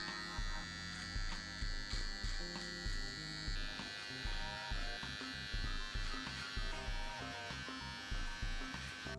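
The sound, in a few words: electric trimmer trimming a mustache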